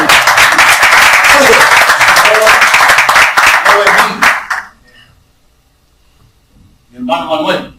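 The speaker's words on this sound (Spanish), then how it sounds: "Démosle un aplauso a Dios." A church congregation breaks into loud, sustained applause for several seconds, dense clapping that fades out, followed by a pause and then a voice speaking in Spanish.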